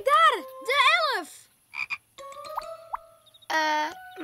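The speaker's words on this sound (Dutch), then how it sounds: "Maar dat is wel een kikker, Simon." A cartoon frog croaks in several loud, bouncy, tonal calls close up, separated by short pauses and a few small plopping and springy effects.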